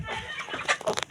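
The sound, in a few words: broiler chickens clucking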